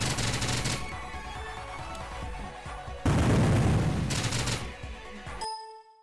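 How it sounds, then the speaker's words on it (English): A grenade explodes in STRAFE, a PC first-person shooter, in a loud, dense burst of game noise: a heavy boom near the three-second mark over continuous gunfire and action sounds, cutting abruptly to silence at the end. "just throw a grenade in"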